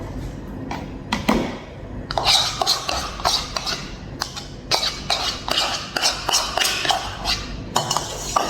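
A spoon scrapes and clinks around a bowl while yogurt and jelly are stirred together, a run of close, quick knocks and rubbing strokes, with a brief cough-like sound near the start.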